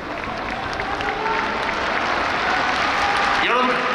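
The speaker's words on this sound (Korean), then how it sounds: "자, 열정적인 박수로 우리 포기하지 않는" Stadium crowd at a Seoul vs Incheon K League 1 football match applauds and cheers in a steady, dense roar, with whistles and voices rising through it, a sustained wash of noise from a large crowd.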